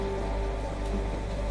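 Steady rainfall in a zombie video game patters evenly over a low constant drone, unbroken throughout and with no talking.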